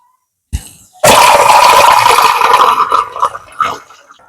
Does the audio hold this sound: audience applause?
no